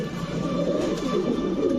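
Sapchila pigeons at a market coo in a continuous low throaty bubbling that stays close and steady throughout the short stretch, with no voices.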